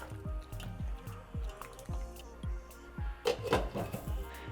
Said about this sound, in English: Give the stew a mix and pop the lid on.